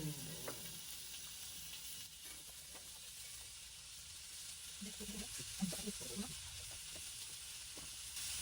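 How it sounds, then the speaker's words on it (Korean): Steady hissing sizzle of hot dogs frying in a pan, continuous and fairly close, with faint clinks and small sounds mixed in. "어, 지글지글."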